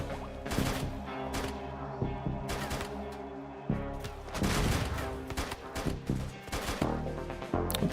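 Small robot raiders in the RimWorld colony game fire on a turret, a clattering mix of repeated gunshot bursts and rapid fusillades running loud and continuous, with sharper volleys cutting through a steady background of game sound.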